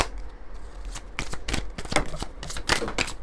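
Oracle cards from a Moho oracle deck being handled and drawn, producing a quick run of close, crisp flicks and papery snaps that cluster irregularly, with no voices.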